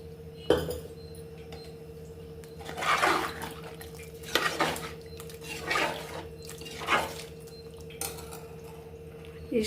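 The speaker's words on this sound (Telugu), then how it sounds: "ఇప్పుడు నేను కొబ్బరి పాలను యాడ్ చేసుకుంటున్నాను" Coconut milk is poured into a cooking pot for rice pulao in a home kitchen, heard as several short splashing pours with clinks of a metal vessel over a quiet background hum.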